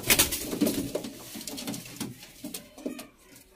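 Pigeons for sale at the Delhi Jama Masjid market coo in low, throaty repeated calls, close and fairly loud, with market bustle behind and no talking.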